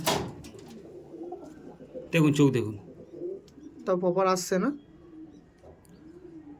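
Madrasi pigeons give a few throaty coos in short bursts nearby, heard between and under a man's speech.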